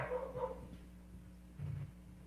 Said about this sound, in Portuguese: Sim, é foda mesmo esse cachorro.